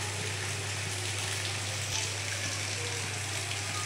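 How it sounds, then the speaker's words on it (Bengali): Pitha frying in hot oil gives a steady, even sizzle and hiss, close and moderately quiet, with no talking. "তো তেলটা মনে হয় গরম হয়ে গেছে। এই যে পিঠা দিয়ে নিব।"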